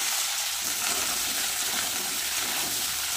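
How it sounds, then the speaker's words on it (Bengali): Vegetables frying in hot oil with black cumin (kalo jeere) for a simple vegetarian dish, producing a dense, continuous hiss and sizzle at steady loudness, with no one talking. "সবজিটা ভেজে নেব।"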